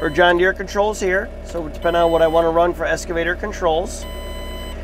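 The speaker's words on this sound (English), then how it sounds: "the alarm now is what tells you that you're not coupled to a piece of equipment yet" Someone talks steadily while a faint, continuous electronic warning tone from a Mecalac excavator's quick coupler drones underneath, signalling it is not yet coupled to an attachment, partly masked by his voice.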